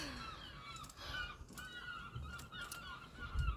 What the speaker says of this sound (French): on est accompagné des mouettes